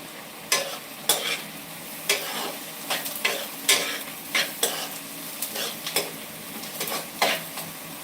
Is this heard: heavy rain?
no